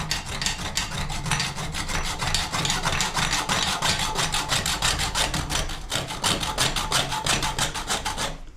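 Hacksaw cutting through a plumbing pipe near a ball-fix valve, a steady rapid back-and-forth rasp of close, loud strokes that continues throughout with no talking.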